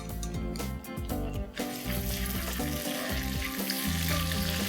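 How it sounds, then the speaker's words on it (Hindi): Bay leaf, a piece of cinnamon and five or six cloves sizzle in a little oil and a teaspoon of butter at the start of a tomato soup, a steady crackling fry heard close, with background music underneath. "अब डालेंगे तेज पत्ता, दालचीनी का टुकड़ा और 5-6 लवंग।"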